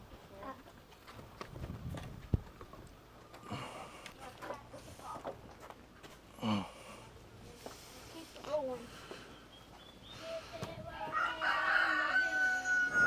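A rooster crows and chickens cluck nearby, with scattered rustling and people talking in the background.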